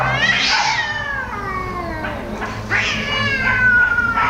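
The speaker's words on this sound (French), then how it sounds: "donc un combat de chat" Two cats fight with loud, continuous yowling and caterwauling that rises and falls in long wavering cries, close and with no talk.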